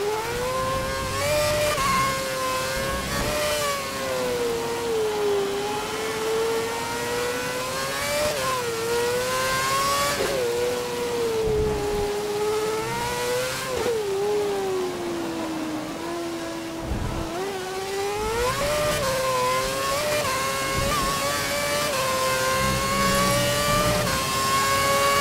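A Formula 1 car engine in the F1 2011 racing video game, driven at a Spain race, revs loudly and without pause. The engine climbs and drops in pitch through repeated gear shifts, with no talking.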